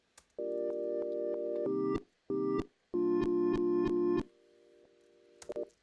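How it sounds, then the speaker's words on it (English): A synthesized beep pattern plays steady electronic tones in short held blocks, stepping between two pitches with brief gaps and a few quick blips at the end, clean and moderately quiet. "And then I made a little doodle beep pattern."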